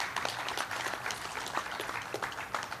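Audience applause for the Ministry of Health team at a presidential event, a steady patter of clapping from a large crowd, with scattered louder claps and a faint voice underneath.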